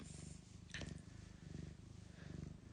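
A cat purrs softly and close up in a slow rhythmic rumble, with a faint brief rustle partway through.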